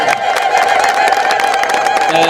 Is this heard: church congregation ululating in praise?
yes